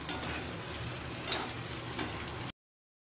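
Vegetables for lau ghonto sizzle in a pan, with a spatula stirring and scraping a few times over a constant close frying hiss.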